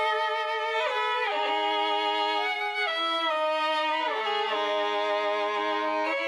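Two harmonized Falcon Bohemian violin sample patterns layered together, dry bowed notes moving in parallel with gliding pitch changes, steady and close, no voices.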